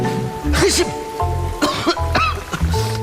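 Coughing and throat clearing from a person with flu, mixed with Indonesian speech and a steady background hum, a few harsh bursts spread through the clip.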